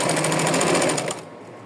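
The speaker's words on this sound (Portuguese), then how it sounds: "passando a costura aqui para pegar bem no meio da cianinha" A sewing machine runs at a steady fast stitch, sewing ric-rac trim onto small doll clothes, its close rhythmic whirring lasting about a second before stopping, leaving a faint room hum.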